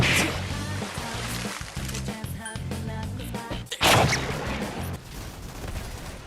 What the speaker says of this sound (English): OUTRIDERS' brutal and bloody combat combines frenetic gunplay, violent powers, and deep RPG systems to create a true genre hybrid.